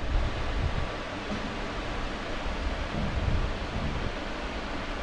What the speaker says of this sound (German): Da ganz unten ist ein Wasserfall.